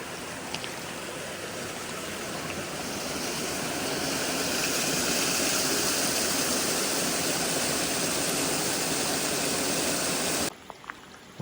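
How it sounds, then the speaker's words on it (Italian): Spring water gushing out from the base of a rock in the Gallio canyon, a loud, continuous rushing flow close by that cuts off abruptly near the end, with no talking. "il flusso d'acqua che esce praticamente dalla base, dall'interno della roccia"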